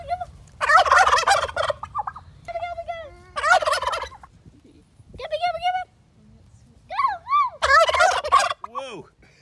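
Wild turkeys gobble loudly in several close, rattling bursts, answering a person's calls, with people talking between the gobbles.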